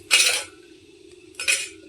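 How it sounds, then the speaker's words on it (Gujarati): Two quick clinking splashes of ice cubes dropped into water for pani puri, separated by a short quiet pause over a low steady hum. "હવે આમાં છે ને બરફ નાખી દેશું પાણીમાં"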